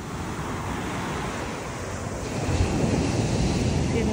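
Ocean surf breaking on a beach in Mexico, a steady broadband wash of waves mixed with wind buffeting the microphone, growing a little louder and fuller toward the end, with no talking.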